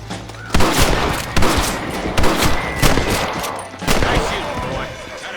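Gunfire from the Western video game Red Dead Redemption: several sharp shots ring out at about half-second, one-and-a-half, two, and four seconds, each trailing into a dense crackling volley with echoing reports, loud and close.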